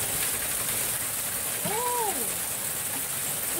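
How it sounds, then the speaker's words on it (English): Hail falling outside during a hailstorm, a continuous dense hiss of pelting ice, with a brief voice-like tone rising and falling partway through. "Oh, it's really hail."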